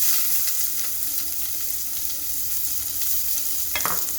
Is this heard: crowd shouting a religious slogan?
no